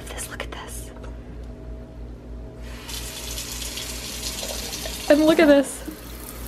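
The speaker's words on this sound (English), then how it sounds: "you know you're an adult when you have a favorite setting on your sink" A kitchen sink faucet runs water steadily under whispery, close talk, its hiss switching to a brighter, fuller spray partway through as the setting changes, with a short hum of voice near the end.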